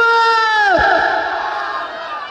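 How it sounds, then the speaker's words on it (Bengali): A large crowd at a Bangla religious gathering chants a loud unison takbir response, a sustained roar of many voices that swells and then fades into a softer, trailing murmur. "একটু তাকবীর দেই, নারাই তাকবীর, নারাই তাকবীর।"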